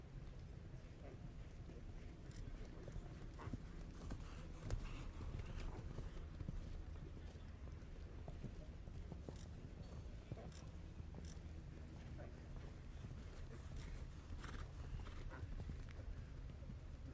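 Horse hooves in a dressage canter at a junior eventing championship, a steady muffled rhythmic clip-clop over a constant wind-blown outdoor background, moderately distant, with faint voices.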